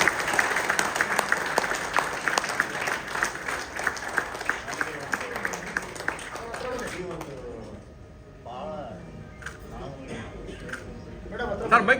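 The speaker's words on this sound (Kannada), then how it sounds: "ಬರಲಿ ಒಂದು ಚಪ್ಪಾಳೆ." Applause from the audience at the launch event for Hamsaleka's film OK, sustained clapping for about seven seconds that then dies away into murmured talk and a few scattered claps.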